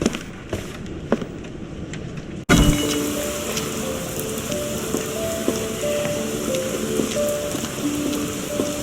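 Steady rain falls in the video game Sherlock Holmes The Awakened, a dense, continuous hiss of drops with a dull patter beneath and a quiet tonal music line, starting abruptly after a brief, quieter opening.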